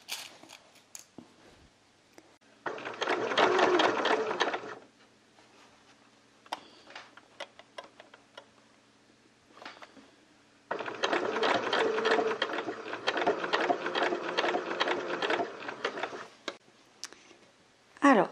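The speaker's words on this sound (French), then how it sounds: "maintenant, je vais coudre tout autour comme ça." A sewing machine stitches all the way around an Amineko cat sleeping bag in two loud running bursts, with a quiet pause between them and faint handling clicks.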